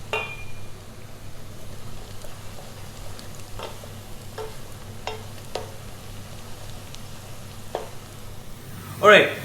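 Onions frying golden brown in a pan for a chicken pepper curry, a faint steady sizzle with occasional soft clicks of stirring, and a louder clink near the end.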